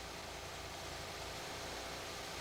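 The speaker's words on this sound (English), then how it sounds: "With the engine running at idle" Car engine idling during a Ford Rotunda fuel injector tester and cleaner setup, a faint steady hum under a wash of broadband noise.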